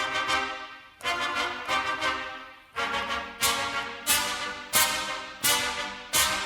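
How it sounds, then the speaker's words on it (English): Trumpets in an orchestral setting sound a series of low, dark sustained notes, about eight separate held tones with sharp attacks, loud and close, with no talking. "And then the lower they go,"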